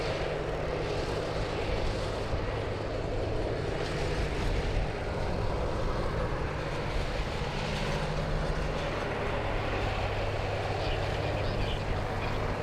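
An Air Canada airliner taxiing at Sydney Airport gives a steady, continuous engine drone and low rumble held at an even level throughout, with no voices.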